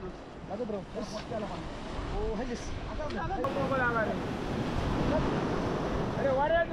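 Sea waves surging on Dandi beach at Malvan during traditional raapan net fishing, a steady close wash of surf and wind buffeting the microphone, with voices speaking over it.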